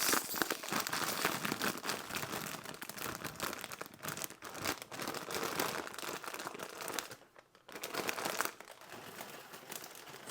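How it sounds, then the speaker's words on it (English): Egg noodles tipped from a plastic bag into a sauce pot make close, continuous crinkling and rustling of plastic with dry clatter, briefly pausing before resuming. "So I'm adding my egg noodles to a sauce pot."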